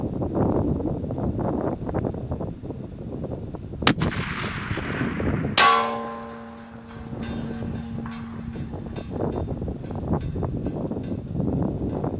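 Savage .338 Lapua rifle fired outdoors at a soda can about 1004 yards away, two sharp loud reports with a decaying echo trailing the second, over steady wind buffeting the microphone.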